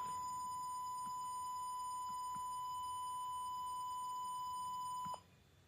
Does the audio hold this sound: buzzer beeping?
yes